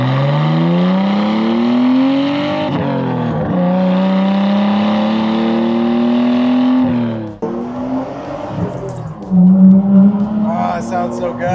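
A Nissan R31 Skyline with an RB20 engine and a custom exhaust revs loudly and rises in pitch, drops back, then revs again, close and dominant, ending with some rougher sounds.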